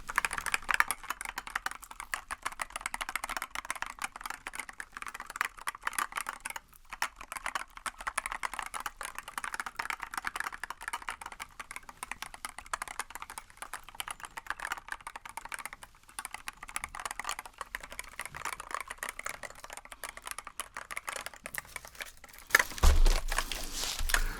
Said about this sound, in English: So let's have a listen to the keys first.